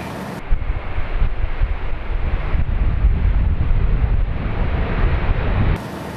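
Steady roaring wind buffeting through an open airplane window during takeoff, loud and continuous with a low rumbling turbulence, cutting in abruptly and ending just as abruptly.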